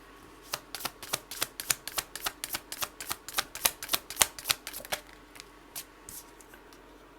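Cards are drawn and shuffled for a tarot-style reading, giving a quick run of about twenty crisp, close riffling snaps in an irregular rhythm, then a few sparse flicks as the drawing slows and stops.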